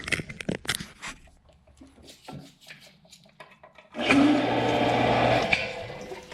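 After scattered handling knocks and rubs, water starts flowing again once the supply is restored, a steady gushing rush that begins suddenly and continues near and fairly loud until the end.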